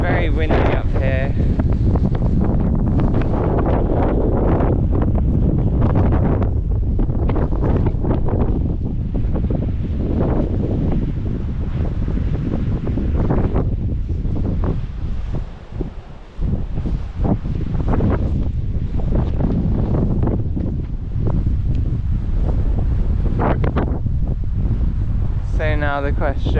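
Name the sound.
strong wind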